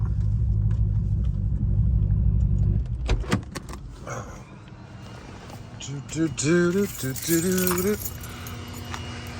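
A truck engine cranks and starts, first a loud low rumble, then keys jingle and a door clunks, followed by a lighter idle with whining tones while someone talks.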